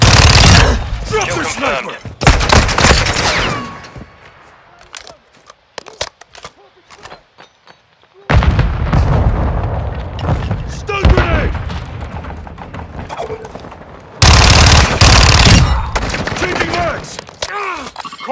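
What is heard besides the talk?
gunfire and explosions in the video game Call of Duty: Modern Warfare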